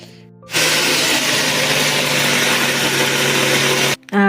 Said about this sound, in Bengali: এই যে দেখো এখন মিক্সিতে বেটে নিচ্ছে